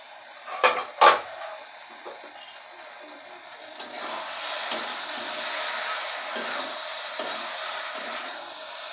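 A metal pot lid is lifted off a simmering pan of spinach and prawns, giving two quick clinks, followed by a soft, steady sizzle and bubbling of the cooking food.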